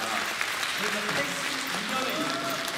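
An audience at a musical talk event applauds an actor, a broad steady wash of clapping in a hall with a voice speaking faintly over parts of it.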